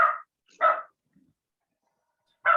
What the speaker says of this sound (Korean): 또 개가 짖네요.